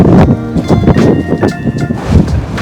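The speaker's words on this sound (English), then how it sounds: "the wind is so strong, that tree looks like it's about to fall" Strong, cold wind gusting outdoors in Canary Wharf, heard as heavy, buffeting rumble on the microphone, loud and close, with a voice partly audible underneath.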